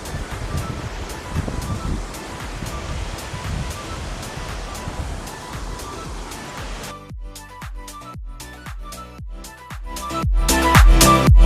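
Constant roaring rush of falling water at Gundala waterfall, loud and close, with some knocking and bumping sounds near the end.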